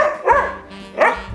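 A dog at home barks twice in quick succession, close and loud, with a sharp yelping tone and a brief pause between the two barks.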